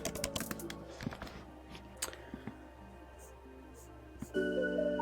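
Fingers tap on a computer keyboard in a quiet room, a cluster of quick clicks at the start followed by sparser keystrokes and a soft hum.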